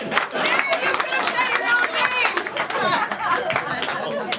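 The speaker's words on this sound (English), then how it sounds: "Clap for Jared, everyone" A live game-show audience claps and cheers for a departing player, steady mixed applause with excited chatter and whoops layered over the clapping throughout.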